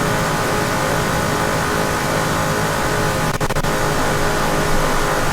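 Race car engine roaring steadily down the Daytona straightaway in a 1971 IMSA race in Assetto Corsa, a loud continuous drone held at high revs with a brief flutter midway, no voices.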